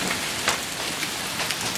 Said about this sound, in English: It better just be hail.